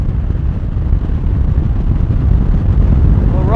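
A Honda Pacific Coast 800 motorcycle riding along the road, a steady loud engine drone mixed with wind rush throughout, with no clear change in pitch.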